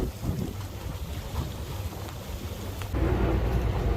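A Tiara 38 LS boat idling at about 3.5 miles per hour, its steady low engine rumble running under wind and water noise throughout, growing slightly louder near the end.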